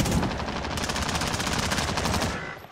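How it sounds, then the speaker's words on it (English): Rapid gunfire from snipers firing out of a house in the video game Alcatraz, a loud, dense burst of repeated shots close by that stops abruptly near the end. "They're still sniping from up there in Grandma's."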